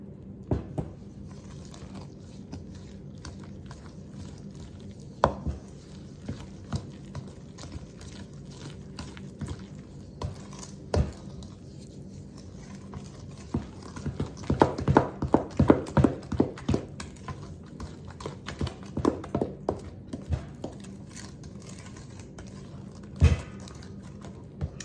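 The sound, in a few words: mixing dry ingredients into banana nut bread batter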